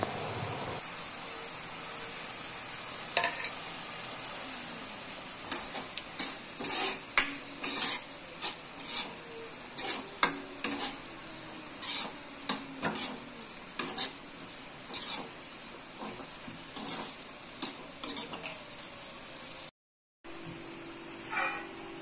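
Ground masala being fried and stirred in a pan for a Tamil mushroom pepper dish, with repeated scraping strokes of a spoon over a steady low sizzle, close and moderately loud, with no talking.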